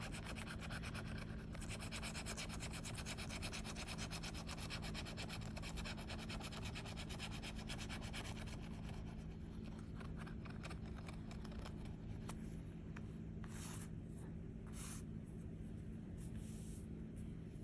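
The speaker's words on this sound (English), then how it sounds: "Whatever ticket you're scratching today, I hope you find the top prize." A lottery scratch-off ticket is scraped over and over, a faint rasping rub that comes through clearer in the second half as quick scratching strokes over steady low background hum.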